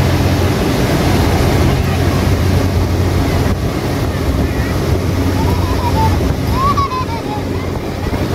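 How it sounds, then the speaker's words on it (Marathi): Boat speeding along the river in London, a constant loud engine drone mixed with rushing water and heavy wind buffeting the microphone, with faint voices in the background. "आणि अगेन आपली बोट सुरू झाली आहे आणि ती खूप स्पीडने चालू आहे."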